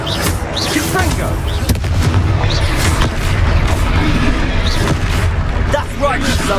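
Repeated booming spell explosions in a Wizarding World video game, heavy blasts and bangs in quick succession amid battle noise, with a character's voice calling out over the action.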